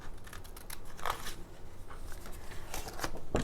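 Scissors snip through paper card flaps for a slimline card, a series of short crisp cuts at close range over a quiet room, with no talking.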